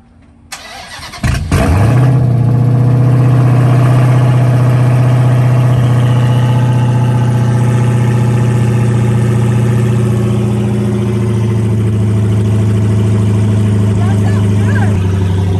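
A car engine cranks and catches near the start, then settles into a loud, steady idle close by that holds for the rest of the clip with little change.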